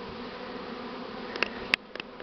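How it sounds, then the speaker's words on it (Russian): Light-coloured Buckfast honey bees buzzing in an apiary, a steady hum with one bee darting close to the microphone in brief louder passes. "Пчела такая светленькая"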